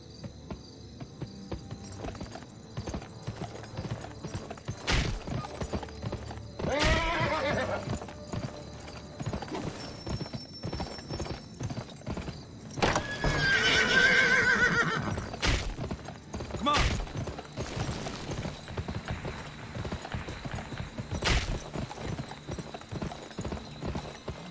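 Horses in the Xbox 360 game Gun, steady clip-clop of hooves on a road with loud neighs and whinnies breaking through, close and continuous over an ambient bed with faint crickets.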